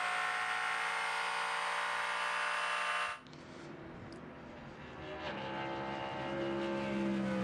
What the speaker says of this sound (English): Cadillac engine on the banking,